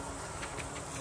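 Agitated honey bees at an Apiguard-treated hive make a close, dense, continuous buzz, one brief steady burst with no pauses.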